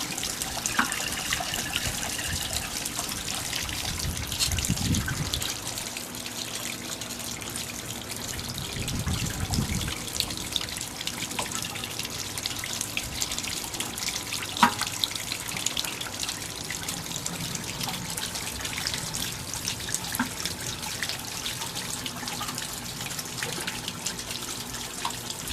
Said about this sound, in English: I'm going to drain some of this water out.